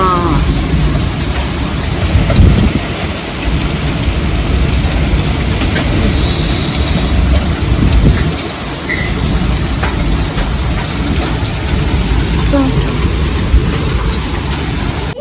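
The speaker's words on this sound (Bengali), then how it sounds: "ছাদের ওপরে ঢাপ ঢাপ ঢাপ ঢাপ করে পড়ছে না রে বৃষ্টি হচ্ছে দেখ কি লেভেলের বৃষ্টি শুরু হয়েছে স্টর্ম সাথে" Heavy rain and hail pound on a roof during a severe storm, making a dense, loud, continuous roar with occasional heavier thuds throughout.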